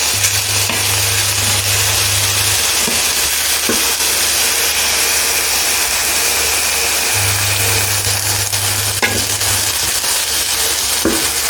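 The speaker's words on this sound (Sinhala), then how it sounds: "දැන් මම මේක මේ විදිහට හිමීට කලවම් කරගන්නවා" Turkey berries for a Sri Lankan mallum are stirred slowly in a pan, producing a continuous close sizzle with scattered scraping clicks from the spoon and a faint steady hum in the background.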